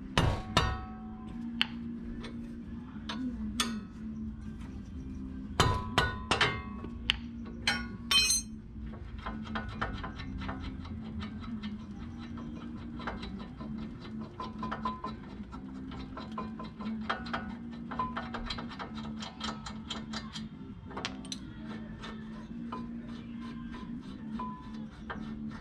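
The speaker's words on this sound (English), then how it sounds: "Then I'm going to remove the caliper mounting bolt. This uses a 19mm wrench." A 19mm wrench works the brake caliper mounting bolt on a 2010 Nissan Frontier, giving scattered close metallic clinks and ratcheting ticks over a steady low hum.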